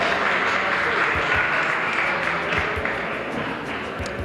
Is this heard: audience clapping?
yes